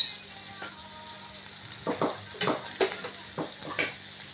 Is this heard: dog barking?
no